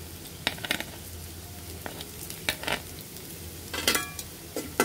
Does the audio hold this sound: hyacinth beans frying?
yes